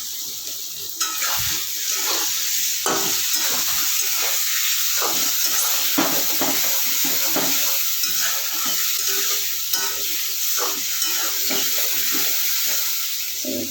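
Chili and cumin paste sizzles and fries in a pan, with a spatula scraping and stirring in irregular strokes over a constant bright hiss, close and fairly loud, no talking.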